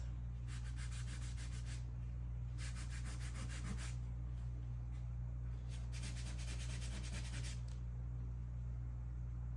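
A cloth or rag rubs back and forth across a painting's surface, lifting out light areas in several rhythmic bursts of soft, raspy scrubbing over a steady low background hum.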